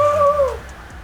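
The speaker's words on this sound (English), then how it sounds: "Oh my God, it makes supercharger noises!" Supercharger whine from an Alfa Romeo V6 engine fitted with a Civic Type R pulley, a brief, loud, high whistling tone that slides downward and fades within a second.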